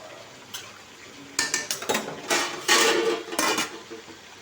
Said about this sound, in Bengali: ঢাকনা খুলে একবার দেখে নিচ্ছি এটাকে।